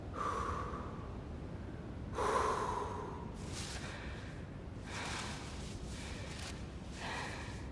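Strained breaths and snorting gasps from a female climbing character in the video game Cairn, several clear exhalations spaced unevenly, fairly close and alone without talk.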